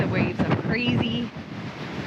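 Wind and rough ocean waves hitting a sailboat on open water on a passage from New Zealand to Fiji, with gusty rushing noise and surging water, while a voice talks over the first half.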